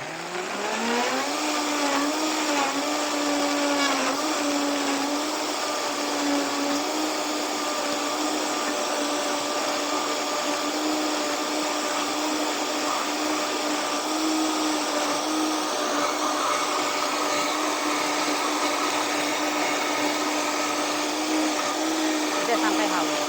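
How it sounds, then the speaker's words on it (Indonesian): A blender whirs through natural antibiotic ingredients until they are smooth, a loud, steady motor whine that runs unbroken from start to finish with no talking. "Kita blender sampai halus ya."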